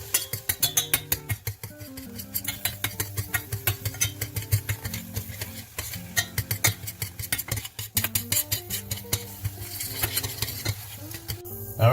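Apple jam with sugar being stirred in a pot, a steady run of scraping, clinking strokes in quick rhythm that stays close and fairly loud, with no talking.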